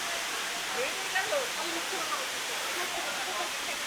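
A constant hiss of rushing water from Khoiyachora Waterfall in Mirsarai, swollen by rain, fills the scene, with a voice speaking faintly beneath the steady roar.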